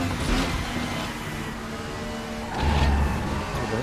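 A race car engine in RaceRoom Racing Experience on the Hockenheimring howls loudly and continuously, dipping briefly and then surging again as the throttle comes back on through the corners.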